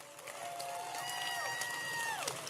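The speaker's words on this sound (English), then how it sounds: "So give General Arnold a big round of applause." A crowd at a Tim Kaine political rally in Norfolk, Virginia, applauding with rising whistles and whoops over a steady roar of clapping, heard at a distance and fairly faint.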